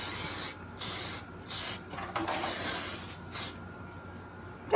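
Hairspray from an aerosol can misted onto hair, four or five short hissing bursts of roughly half a second each with brief pauses between, close and fairly loud, with no talking.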